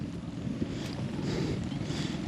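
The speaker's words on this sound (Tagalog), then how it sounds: "Mahangin, malakas" Steady roar of strong wind buffeting the microphone outdoors while fishing, a continuous low rumble with gusty swells and no talking.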